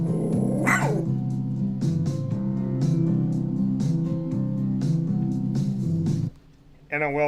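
Dog barks and yips sound repeatedly in a steady series through a daycare advertisement, layered under someone talking and background music.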